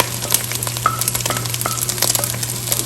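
Chopped vegetables sautéing in a hot pan for restaurant-style chicken shashlik, a steady close sizzle and crackle with scattered spatter pops and a constant low hum underneath.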